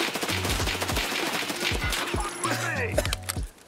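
Gunfire from SPT Tarkov cracks out as a quick string of sharp shots in irregular clusters, close and fairly loud, mixed with clattering game sounds.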